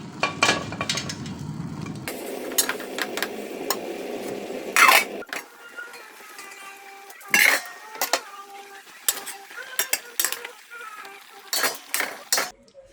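A cooking pot is rinsed and scrubbed, with running water at first, then scattered metallic clinks, scrapes and knocks of the pot and utensils, close and intermittent, with no voices.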